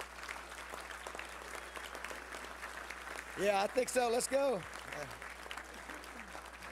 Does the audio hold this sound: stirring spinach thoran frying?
no